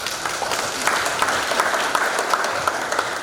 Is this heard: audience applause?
yes